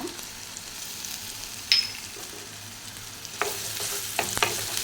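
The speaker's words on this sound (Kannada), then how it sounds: "ಈಗ ಫ್ರೈ ಆಗ್ತಿದ್ದಾಗೆ ಒಂದು ಚಿಕ್ಕ ಟೀ ಅಷ್ಟು ಶುಂಠಿ ಬೆಳ್ಳುಳ್ಳಿ ಪೇಸ್ಟ್ ಹಾಕ್ತಿದ್ದೀನಿ" Ginger garlic paste sizzles in a pan for dry pepper chicken. A continuous low frying hiss rises in loudness partway through, and a few scraping stirs land near the end. No one talks.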